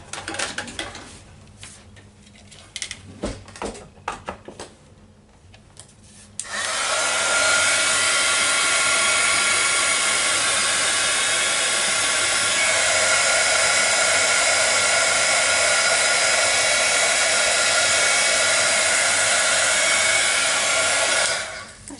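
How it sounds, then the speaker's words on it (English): A heat gun blows hot air to dry freshly stamped ink on a card. A few soft handling clicks come first, then a loud, steady, close whirring roar runs unbroken to the end. "I'm going to grab my heat gun and just dry it."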